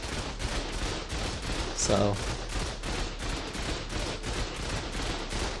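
Turrets firing steadily in the ARK survival video game, rapid repeated gunfire bursts filling the scene at a constant level while a voice speaks briefly over them.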